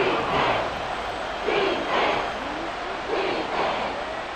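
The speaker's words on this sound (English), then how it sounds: "A big play here as the crowd noise rises." Stadium crowd in a Madden football video game simulation, Falcons at Commanders, a steady dense roar that swells in waves and stays loud throughout, with no clear speech over it.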